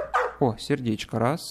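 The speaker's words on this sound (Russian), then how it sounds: "О, что-то гавкает." A dog in the Animal Shelter video game gives several short, yappy barks in quick succession, close and clear, while someone talks over them.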